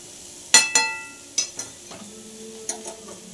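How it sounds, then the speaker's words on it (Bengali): Potatoes stir-fried in a pan over a high gas flame: a spatula clanks and scrapes several times against the pan over a soft, steady sizzle, close and fairly loud. "দেখুন খুব সুন্দর ঝরঝরে আলু ভাজা হয়েছে। গ্যাসের ফ্লেম পুরো বাড়ানো আছে।"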